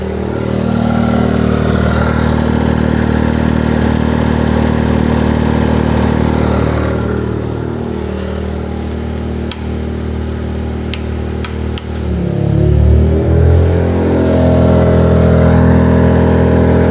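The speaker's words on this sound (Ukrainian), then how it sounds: "Пішло навантаження. Піднялися трошки оберти в двигуна." EcoFlow dual-fuel generator engine running under a 1.5 kW load, a loud close steady drone whose pitch shifts as the revs rise, with a few sharp clicks and no speech.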